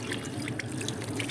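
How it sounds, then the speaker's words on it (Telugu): Water pours onto a potted tomato plant, a close, steady splashing trickle that runs continuously for a moment without any talk. "ఇక్కడ టమోటా ప్లాంట్కి కానీ వాటర్ వేసేద్దామా."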